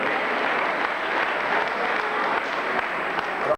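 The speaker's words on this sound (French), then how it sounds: "On l'applaudit, hein." Audience applause at a 2001 Saint-Nicolas-d'Aliermont running race prize ceremony, a dense steady clapping that holds loud and even for several seconds before cutting off abruptly.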